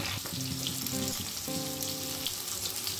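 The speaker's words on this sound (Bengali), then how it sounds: "এবার এটাকে তুলে নিয়ে আমি পেঁয়াজটা দিয়ে দিই।" Sliced medium onions dropped into hot oil in a pan just used for frying papaya and potato, giving a steady, close sizzle throughout with a brief stirring clatter near the start.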